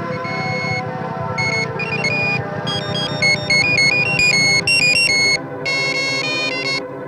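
A phone rings during an outgoing call with a repeating electronic ringtone of bright beeping tones in short bursts, playing clearly over a low background hum with no talk.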